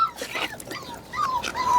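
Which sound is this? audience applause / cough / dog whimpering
dog whimpering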